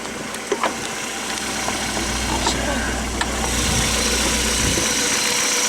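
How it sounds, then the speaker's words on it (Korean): Kia Elan sports car engine turning over and settling into a steady, fairly quiet idle, a low continuous hum with a few faint clicks above it. "자, 시동 한번 걸어 볼게요"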